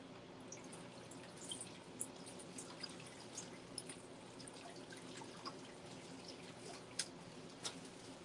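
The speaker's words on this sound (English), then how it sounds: "Let me rinse my hands" Hands rinsed under a running tap during cake-style yarn dyeing, a steady faint wash of flowing water with occasional drips and splashes, fairly distant and uninterrupted.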